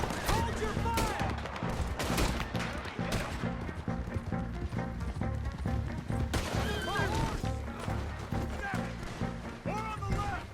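Shootout gunfire in Red Dead Redemption 2, repeated rifle and pistol shots cracking in irregular bursts amid horse neighs and hoofbeats, with shouting voices throughout.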